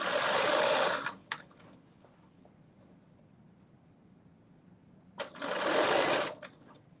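A sewing machine stitches a neckline facing onto a knit dress in two short loud bursts about four seconds apart, with quiet room noise between.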